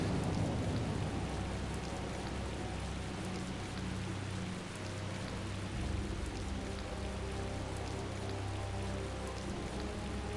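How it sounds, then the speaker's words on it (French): Heavy rain pours steadily over a town in the video game Tales of Vesperia, a dense, even hiss of downpour with a low rumble beneath, continuous and without voices. "quand on rentre dans la ville, il pleut à verse."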